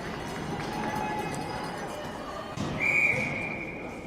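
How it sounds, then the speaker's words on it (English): A referee's whistle sounds one sharp, sustained blast that stops play in an indoor ringette game, heard over skating noise and a murmuring crowd. "that'll be a whistle"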